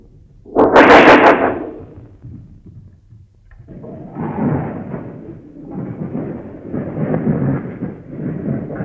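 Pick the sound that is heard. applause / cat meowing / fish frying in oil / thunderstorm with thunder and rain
thunderstorm with thunder and rain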